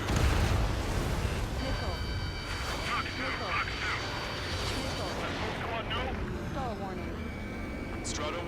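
Ace Combat 7 air combat: a missile launches with a rumbling whoosh and explodes against a background of jet engine roar and blasts, while radio voices talk over it.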